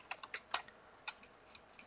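Light, irregular clicks of typing on a computer keyboard into a React.js form, close and quiet, with brief pauses between bursts of keystrokes.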